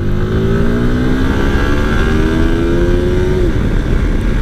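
A 2023 Yamaha R15 v4 155cc motorcycle engine revs hard, its pitch climbing steadily for several seconds. A shift near the end drops the note, heard loud and close under wind rush.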